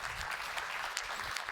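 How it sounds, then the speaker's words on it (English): Conference keynote audience clapping to welcome a speaker on stage, a brief, fairly quiet patter of many hands from across a hall. "give her a warm welcome applause"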